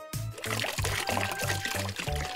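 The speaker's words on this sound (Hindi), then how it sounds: "चलो टब में पानी भर देता हूँ।" Cartoon water pours into a tub as a bright, gurgling stream with a repeated low glugging pulse at a steady rhythm, close and moderately loud.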